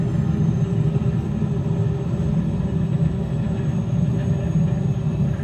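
Boeing 737 flight simulator engines spooling into reverse thrust on landing, a steady loud low roar and rumble that holds throughout without pause.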